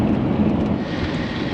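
Steady rain falls through the early-morning daylight in the Russian taiga, a dense, even wash of noise that stays loud and unbroken from start to finish with no voices.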